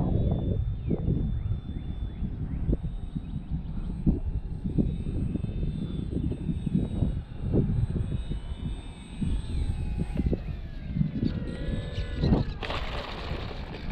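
An Xfly Tasman RC model airplane flies in on a landing approach, its electric motor whining steadily with rising and falling tones as it passes, steady wind noise underneath, a brief louder swell near the end.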